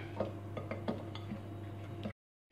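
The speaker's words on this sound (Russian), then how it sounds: "И теперь все это дело перемешиваем." Sugar topping being stirred into warm melted butter in a bowl for a sugar pie, heard as a run of light clinks and scrapes of a utensil against the bowl over a steady low hum, ending in silence.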